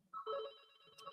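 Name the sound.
telephone ringing at home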